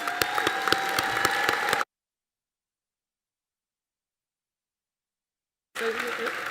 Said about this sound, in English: Let's give another round of applause for all of us.